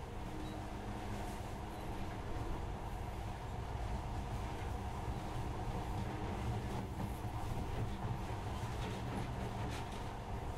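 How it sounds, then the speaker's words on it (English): Monorail ride in Metro Redux, a steady low rumble of rolling rail carriage with faint mechanical rattles, continuous and fairly quiet with no talk. "In the past, trains were ordinary things, but now, this monorail seems magic, doesn't it?"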